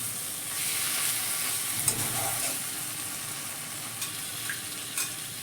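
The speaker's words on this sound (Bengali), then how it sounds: "ভুজিয়াটা দিয়ে একটু কষিয়ে নিচ্ছি" Egg bhujia being stir-fried in a pan gives a steady, close sizzle with the soft scrape of a spatula running through it and a few sharper clicks along the way.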